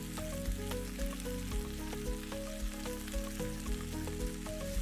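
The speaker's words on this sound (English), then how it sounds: "Fry it up, give it some time." Green pepper and okra fry in a pan with a steady, quiet sizzle that runs unbroken throughout, while a soft melodic backing plays underneath.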